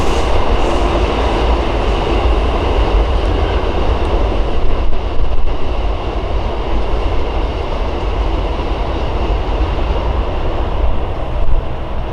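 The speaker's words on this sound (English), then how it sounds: "we immediately saw a silver South Shore multiple unit set blasting across the iconic" A silver South Shore electric multiple unit train blasts across a bridge near a marsh, producing a loud, steady rumbling roar with faint rhythmic wheel clatter sustained throughout.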